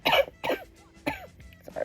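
Several short, faint coughs from a person indoors, four dry bursts spaced unevenly over a couple of seconds, no talk.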